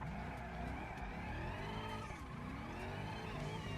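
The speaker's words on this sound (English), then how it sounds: "Car doesn't sound great though, Yule." A car engine in the driving game BeamNG runs with a steady, rough, droning tone that wavers slightly in pitch, close and continuous throughout with no talking.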